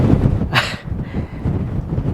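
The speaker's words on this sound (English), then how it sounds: "These winds have got to be getting close to 30 miles an hour, and I can't even imagine what the gusts are." Strong gusty wind near 30 mph sweeps across a pole barn house building site, a close rumbling buffet on the microphone with one brief, loud hissing gust.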